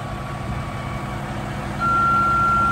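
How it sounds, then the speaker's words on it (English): 2025 Peterbilt 567 quad axle dump truck with an X15 Cummins engine idling close by, a steady low diesel rumble with a tonal whine that grows louder near the end. "2025 Pete 567 quad axle. We got an X15 565 Cummins"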